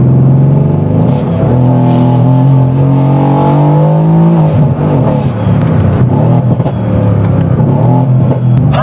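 A turbocharged 801 hp sleeper car accelerates hard and breaks traction, its engine note loud and close, climbing in pitch with a rough rumble before easing off, with no speech over it.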